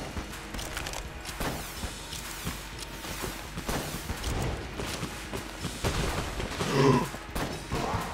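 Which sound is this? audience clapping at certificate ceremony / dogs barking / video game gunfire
video game gunfire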